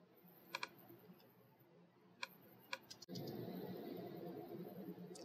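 Faint, sharp mouse clicks while editing in Final Cut Pro X, a few isolated clicks and a quick double click over a quiet room hum, followed by a steady louder hiss.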